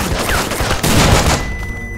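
In the tactical video game Breach & Clear, a grenade blast and a burst of gunfire crash loudly together, a dense roaring volley lasting about a second before tapering off.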